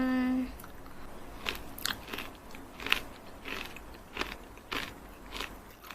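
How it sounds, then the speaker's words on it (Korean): Black sesame granola with blueberry yogurt is eaten close to the mic in a short series of crisp crunching bites and chewing, fairly quiet, with no talking. "오늘은 블루베리 요거트에 흑임자 그래놀라 잘 먹겠습니다."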